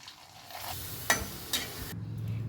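Kuchi vathal, dried stick-shaped Kallidaikurichi crisps, sizzle in hot oil with a steady close hiss, a couple of sharp clinks of a utensil, and the frying swelling louder toward the end, no voices.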